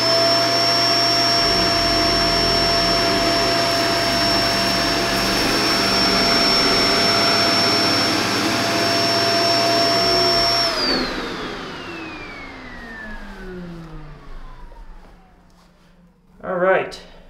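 A Kenmore Intuition bagged upright vacuum cleaner (BU4022/BU4021) runs with a loud, steady high-pitched whine and roar close by, then powers down and its pitch slides away into quiet, ending with a brief thump.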